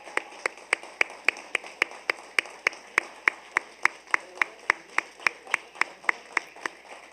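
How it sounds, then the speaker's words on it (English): At a youth awards ceremony, hands clap for two award winners in a loud, metronomic run of roughly twenty-five sharp claps, each one distinct and close, holding a brisk, even pace from start to finish. "Let's give those two a round of applause, Anish and Danielle"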